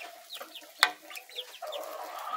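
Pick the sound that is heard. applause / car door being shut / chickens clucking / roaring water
chickens clucking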